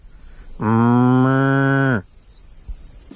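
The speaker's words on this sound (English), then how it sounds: "I got all the cows talking now" A single long cow moo in a field, loud and close, lasting over a second with a steady tone, then quiet outdoor ambience with a faint knock.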